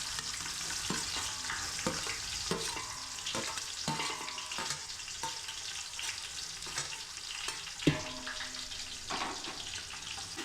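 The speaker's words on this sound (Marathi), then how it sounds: "आता आपण पहिलं जे टाकणार आहे ते कांदा टाकून घेणार आहे." Onions frying in hot oil at the start of a homemade dum biryani, a continuous crackling sizzle broken by repeated scraping stirs and utensil knocks, with one sharper clank near the end, no voices.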